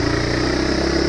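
A motorcycle engine labours up a steep mountain road climb, throbbing in a steady, loud, close drone with a continuous rhythmic pulse and no voices over it.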